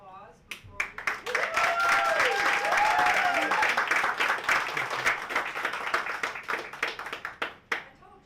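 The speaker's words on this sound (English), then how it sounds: "I think that's worth a round of applause" Sustained audience applause at a live book launch, dense clapping swelling and holding steady before tapering off with a few last claps, with voices murmuring underneath.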